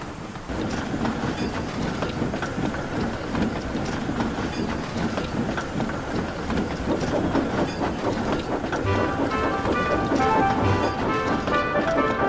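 A toy engine train runs along the main line with continuous rumbling and clickety-clack wheel rhythm, steady and fairly loud, with faint hiss and no talking.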